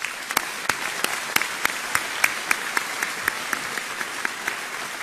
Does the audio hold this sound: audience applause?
yes